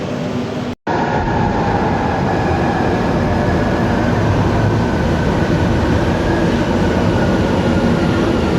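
An MRT train at Cubao Station rumbles loudly and steadily with a dense roar of wheels and carriage noise. A brief cut of silence breaks the sound near the start.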